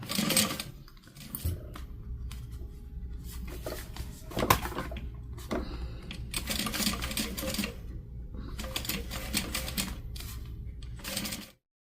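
A sewing machine runs top stitching around fabric binding in bursts of rapid mechanical whirring, pausing between runs, close up and without talk.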